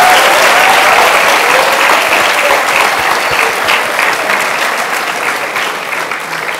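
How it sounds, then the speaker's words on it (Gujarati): Sustained, dense applause from a large audience at a motivational talk, loud and steady throughout and tapering only slightly toward the end, with no voice over it. "તમે તાળી વગાડો"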